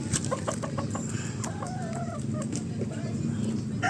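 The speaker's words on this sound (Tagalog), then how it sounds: "Yan yung sa ating brass back na inahin din." A brassback hen clucks in short repeated bursts amid a busy farmyard, with other fowl nearby and a steady low hum underneath, moderately close.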